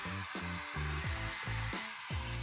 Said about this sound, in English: I let it air dry with a hairdryer